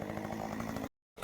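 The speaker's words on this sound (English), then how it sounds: "He's over here cutting like a maniac." A chainsaw cutting maple trees snarls loudly and close for nearly a second, cuts out abruptly into silence, then roars back briefly.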